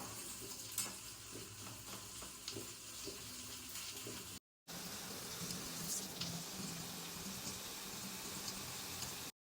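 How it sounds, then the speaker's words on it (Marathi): Onions frying in a pan for egg biryani: a steady, close sizzle with light crackling and occasional stirring clinks, broken by one short silent gap, with no voices over it. "आता मी हे बनवते ग्रीन जसं म्हणजे कांदा फ्राय व्हायला थोडंसं वेळ लागतं"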